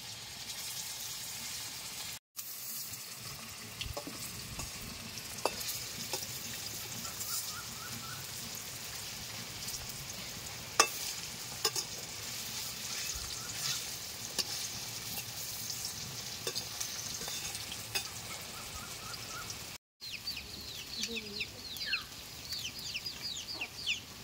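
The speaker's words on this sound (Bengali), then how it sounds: "বন্ধুরা, তেল গরম হয়ে গেছে। এবার আমি কোপ্তা আকারে করে ভেজে নেব আমি।" Kofta balls frying in hot oil, a steady crackling sizzle running throughout with occasional stirring scrapes, and faint chicken clucks in the background.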